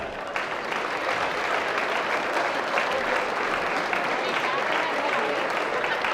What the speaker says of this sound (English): One big round of applause, please.